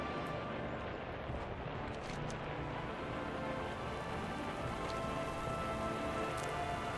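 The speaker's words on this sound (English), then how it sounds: "Oh, it's raining in Stormheim." Steady, dense rainfall in Stormheim in the video game World of Warcraft, pattering on surfaces, a continuous even wash of drops with no voices, filling the whole stretch.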